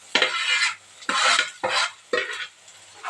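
Chopped onion tipped into a hot pan and stirred with a utensil: five loud, close scraping and sizzling strokes in an uneven rhythm, with brief quieter gaps between them.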